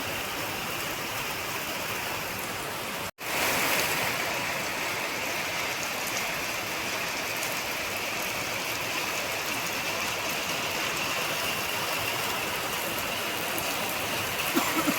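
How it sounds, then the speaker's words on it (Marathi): Heavy cloudburst rain in a village in May pours steadily in a dense, continuous hiss, broken once by a brief dropout early on, then unchanging to the end. "मे महिन्यातच एवढा पाऊस पडतोय मित्रांनो बघा"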